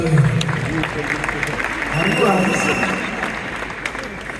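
Church congregation applauding and cheering, a dense steady wash of clapping with voices mixed in throughout, swelling slightly in the middle.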